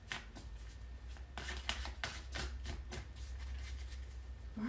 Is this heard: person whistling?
no